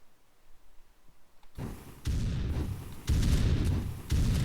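A suppressed gun firing in Bean Battles: after a near-silent stretch, a sequence of heavy, thudding shots with rumbling tails, about four bursts at roughly one-second intervals, loud and close.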